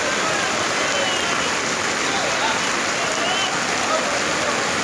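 Heavy rain pours down in a steady, dense roar that stays loud and unbroken throughout, with no pauses or distinct drops standing out.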